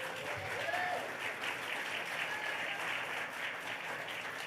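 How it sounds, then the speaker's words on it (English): At a Bronies fan convention panel, the audience claps enthusiastically in a sustained, even roar of applause with scattered cheers, heard from within the room. "Give yourselves a round of applause."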